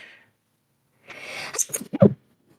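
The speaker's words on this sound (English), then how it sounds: "about a sneeze coming on." A single close sneeze comes after a quiet breath intake, with a sharp burst at the end, in a quiet indoor setting.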